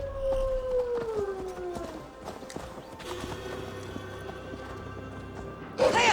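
A horse's hooves clip-clop in Assassin's Creed Valhalla while riding through a forest, faint and rhythmic beneath a howling, whinnying cry and steady background game ambience.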